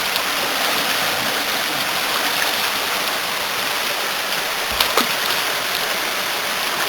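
Rushing whitewater on a Verde River rapid, a steady broadband roar that stays loud and unbroken throughout, with a brief splash or knock near the end.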